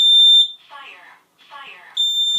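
A Kiddie combination smoke and carbon monoxide alarm under test gives loud, piercing high beeps, with a synthetic voice speaking between them, close up.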